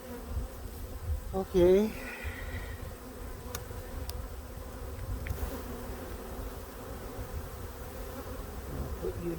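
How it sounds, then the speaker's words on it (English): Honey bees hum steadily around an open hive during a late-season inspection, a dense buzz throughout with one loud bee passing close early on, plus faint handling clicks and a brief spoken word. "Look at all the bees."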